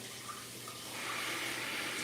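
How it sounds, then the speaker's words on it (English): Cold tap water runs steadily over cooked pasta shells in a kitchen sink, a broadband hiss that swells slightly louder partway through and continues alone. "Just gonna run them under the cold water."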